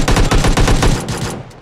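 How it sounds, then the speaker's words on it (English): Rapid automatic gunfire in the video game PUBG, a loud close burst of shots in quick succession that stops abruptly and tails off into a short fading echo. "I'm getting shot at."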